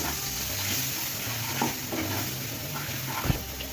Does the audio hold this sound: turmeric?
yes